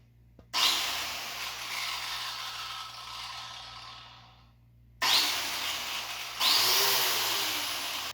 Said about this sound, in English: I assembled the angle grinder salad shooter and gave it a whirl.